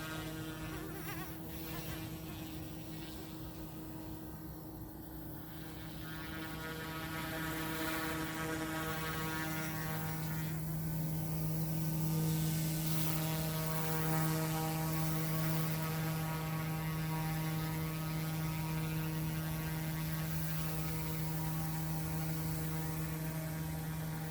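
M2 Evo RC helicopter hovering and flying in wind, a steady tonal whine and buzz of the rotor and motor holding throughout, growing a little louder after the first few seconds, with wind noise underneath.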